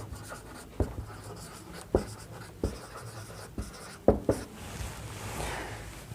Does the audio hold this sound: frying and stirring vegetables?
no